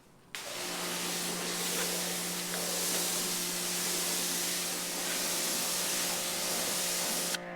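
A garden hose sprays water across a car to rinse off big chunks of mud during a quick wash, a steady, loud hiss that starts abruptly and runs unbroken, alone with no talk.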